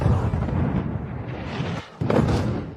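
Explosions in Gaza: heavy, booming bursts with rumbling low-end roll, one blast after another, with a brief dip before another loud burst.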